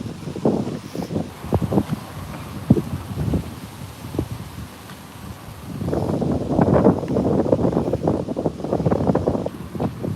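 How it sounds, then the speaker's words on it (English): Gusty wind buffets the microphone in rough, rumbling bursts, easing briefly before a stronger, sustained gust roars through the second half. "It's going to be windy."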